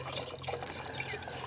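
Water pours steadily into a Range Rover's coolant system, a continuous splashing trickle under a low steady hum, close and fairly even throughout.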